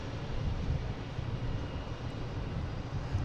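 Boeing 737-800 airliner at Boston Logan International Airport, a steady low engine rumble with broad roar, continuous and moderately loud through the whole stretch, with no voices.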